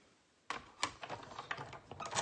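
Die cutting machine pressing a stitched heart shape, heard as a series of quick clicking, clattering mechanical bursts, close and moderately loud after a brief silence, with no talking.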